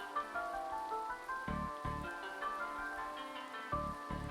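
Rain falls in The Darkside Detective video game, a soft steady patter under melodic game music with a few muffled thuds scattered through it.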